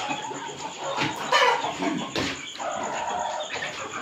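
A desi village hen squawks and clucks in harsh bursts as someone grabs it, fairly close, with rustling and flapping between the cries.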